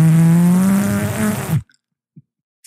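A voice imitates a fart with one loud, close, drawn-out blubbering raspberry lasting about a second and a half, followed by near silence.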